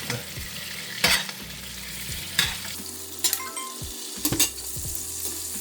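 A steak sears in a hot frying pan with a steady sizzle, broken by several sharp scraping and clattering knocks of a utensil against the pan. No one speaks.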